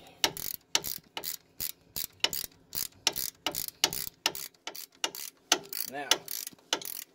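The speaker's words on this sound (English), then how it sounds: "you have to leave the ABS sensor loose while you tighten this bolt" A ratchet wrench tightens a wheel bearing bolt on a 2003 Pontiac Grand Am GT, giving about a dozen short, sharp clicking bursts in a steady rhythm, close up, with quiet pauses between strokes.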